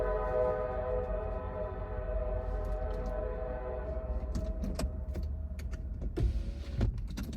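A train passes outside, a sustained low rumbling drone with steady tonal hum lasting several seconds, heard from indoors with a few faint clicks and knocks over it.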